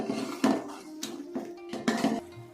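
Spices being mixed in a pot for beef pulao, with a handful of close, irregular metallic scrapes and clanks of a spoon against the pot over a low background hum, no speech.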